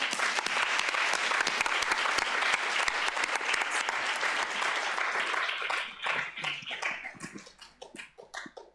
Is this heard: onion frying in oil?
no